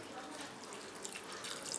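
Water poured into a measure of jaggery for dissolving, during a coconut poli recipe in a home kitchen; a soft, steady splashing trickle runs throughout at low level, with no talk over it.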